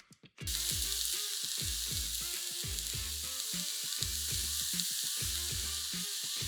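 Chicken stir-frying in a wok with soy and hot honey, a loud, steady sizzle after a brief quiet start, broken by regular rhythmic scrapes and tosses of the spatula against the metal.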